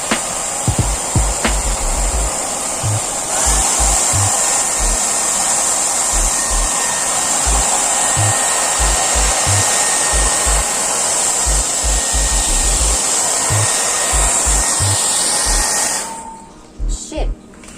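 A handheld blower pushes air across wet paint for a Dutch pour painting with silicone oil, a loud continuous whooshing whine with low thumping beneath it that cuts out suddenly near the end.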